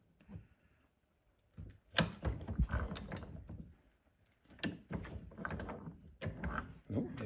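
A socket wrench working a rust-bound Jacob's chuck loose on a blacksmith post drill, with bursts of close metallic ratcheting and grinding separated by short pauses. Someone mutters now and then between the bursts.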